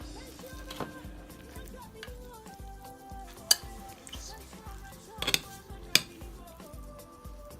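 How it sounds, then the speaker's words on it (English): A child mixes omelet eggs in a bowl, giving a busy run of clinking and scraping strokes with a few sharp knocks against the bowl, while an adult talks softly in the background. "now what he's going to do is mix the whole thing together"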